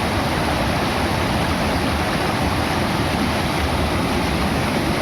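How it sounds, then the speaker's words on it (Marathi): Muddy, silt-laden river water rushes down from a dam during heavy monsoon rain, making a loud, steady roar of broadband turbulence with no pauses and no voices. "तेवढं जे पाटाने आणि इकडून तिकडून पाणी येतंय ते सगळं नदीच्या वाटेने खाली जात आहे."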